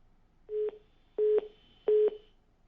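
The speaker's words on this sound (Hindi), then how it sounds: "चलिए फोन डिस्कनेक्ट हो गया है विकास जी आपका" Telephone line tones after a caller is disconnected: three short, identical electronic beeps spaced evenly apart, clean and moderately loud against near silence.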